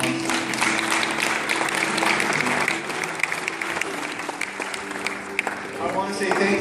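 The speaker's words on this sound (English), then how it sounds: "Let's give them another round of applause." A church congregation applauding to close a service, a loud, sustained wash of clapping from many people, with a voice talking over it.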